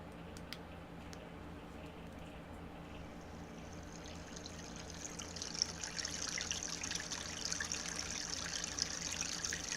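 A recording of flowing water plays back through the small built-in speaker of a cheap voice recorder, giving a faint, steady trickling wash over low hum throughout.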